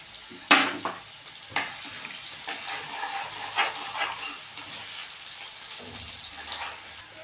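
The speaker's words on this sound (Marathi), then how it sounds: "हे कांदा आणि टमाटा याच्यात टाकून परतवून घेऊया" Chopped onion and tomato sautéing in hot oil in a heated kadhai, a close, steady sizzle with a few sharp stirring clatters near the start and no talking.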